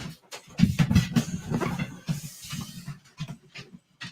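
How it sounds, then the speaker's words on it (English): A dog pants heavily right after being let indoors, rapid close breathy huffs in an uneven rhythm with a few faint whimpering notes, loud at first and then easing off. "Let me go let my dog in."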